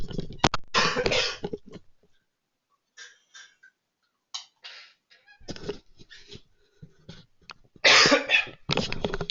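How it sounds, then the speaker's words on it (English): A man's coughing fit, several harsh bursts of coughing close to the microphone, separated by pauses and some throat clearing, with a final cluster of heavy coughs. "Sorry, having a coughing fit right there."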